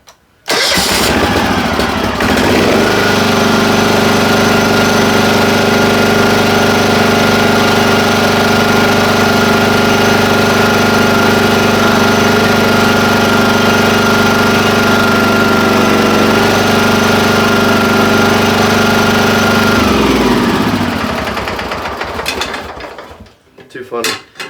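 An International Cub Cadet garden tractor engine, started with the choke on, cranks briefly and catches, then runs at a steady loud idle for about twenty seconds before winding down and stopping.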